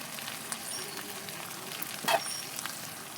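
Chicken masala sizzles steadily in hot oil in a pan as spices and salt go in, a continuous crackling fry with a brief louder hiss partway through.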